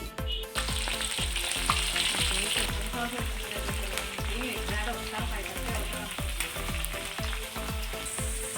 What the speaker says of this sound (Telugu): ఇప్పుడైతే మనం అది ఫ్రై చేసి పెట్టుకుందాం